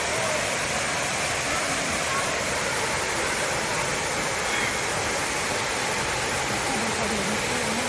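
Muak Lek waterfall, between Saraburi and Nakhon Ratchasima in Thailand, pours in a loud, continuous broadband rush that stays steady and close throughout, with no other sound standing out.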